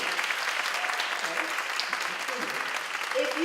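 Steady applause from an audience at an evening lounge event, many hands clapping together in a dense continuous patter at even volume throughout.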